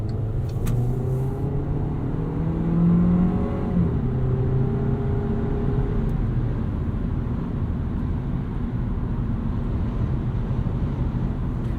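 Steady road and engine drone inside a moving 2016 Volkswagen Jetta 1.4T SE with an automatic gearbox, a low continuous hum with a brief swell early on, no voices.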